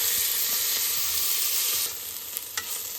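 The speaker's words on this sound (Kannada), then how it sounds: "ಈ ಬಿಸಿ ತುಪ್ಪಕ್ಕೆ ನಾವು ಹಾಕುವ ಈರುಳ್ಳಿ. ಹಿಂಗ್ ಸೌಂಡ್ ಬರ್ತದೆ." Chopped onions dropped into hot ghee sizzle steadily and loudly in a pan, a continuous close frying hiss with faint stirring scrapes, no voices over it.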